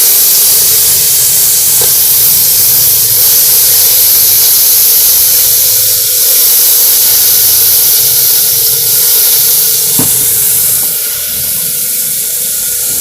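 Crushed garlic fries in hot oil with a loud, constant hissing sizzle that runs without a break. A faint knock or two sounds in the background, and there is no talking.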